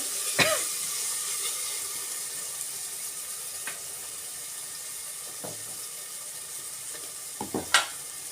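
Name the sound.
spinach rice curry frying in a pan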